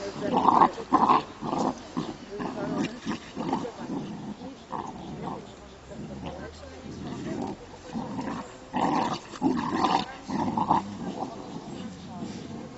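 A Black Russian Terrier growls and grumbles at a dog kindergarten, its low rumbling and snarls mixed in with steady nearby talking throughout.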